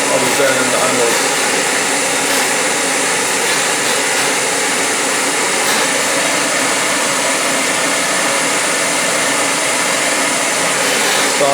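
A small BRS 3000T camping gas stove burns with a loud, constant roaring hiss close to the listener, unbroken throughout.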